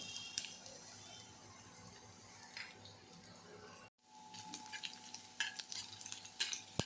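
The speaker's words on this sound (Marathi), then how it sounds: "तेल गरम झालं आहे याच्यामध्ये अद्रक आणि लसूण टाकत आहे बारीक कापलेलं" Finely chopped ginger and garlic sizzle in hot oil in a kadhai, a steady close crackle with scattered stirring scrapes, briefly cutting out before resuming a little louder.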